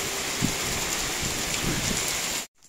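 Heavy rain pours during a storm, a dense, constant hiss of drops striking surfaces at close range, steady throughout before cutting off abruptly near the end.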